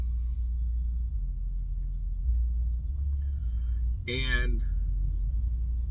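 Cargo van driving on the road, a steady low rumble of engine and tyres filling the cabin throughout, with someone speaking briefly over it.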